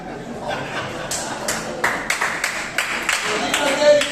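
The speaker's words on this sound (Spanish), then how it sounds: "Yo no he dicho que aplaudáis." A church congregation claps in short rhythmic bursts, several sharp rounds of applause scattered over a few seconds, with murmuring voices and a preacher's speech mixed in.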